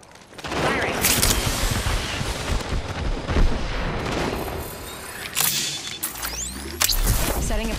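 Heavy bursts of video game gunfire and booming impacts fill a chaotic firefight with the character Wraith, with a voice speaking over the sustained shooting.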